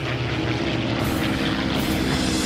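Engines of two WWII Japanese Oscar fighter planes diving in over Guadalcanal, a steady loud propeller drone filling the whole stretch with no break.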